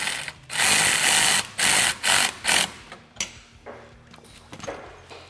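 Screws being driven in bursts with a power driver while fitting a windshield to a Polaris RZR Pro XP side-by-side, several short whirring runs in quick succession followed by quieter clicks and handling noises.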